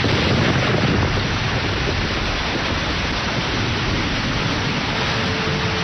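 Heavy rain pours in a dense, unbroken roar, loud and close, steady throughout with no voices.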